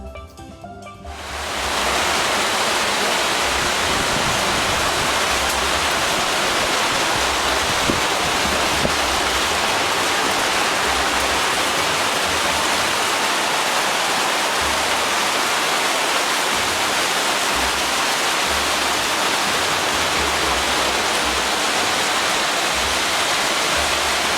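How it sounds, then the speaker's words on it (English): A violent tropical rainstorm pours down during a Caribbean cruise, with a dense, loud, unbroken roar of heavy rain that swells up within the first couple of seconds and holds steady throughout, no voices heard. "Here we were treated to a violent rainstorm, which only lasted a few minutes."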